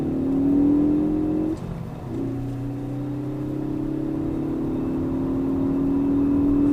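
A hot hatch, one of a Ford Focus ST, Mazdaspeed 3 or Volkswagen GTI, accelerates up a hill with a loud, close engine drone that dips briefly at a gear change, then climbs steadily again.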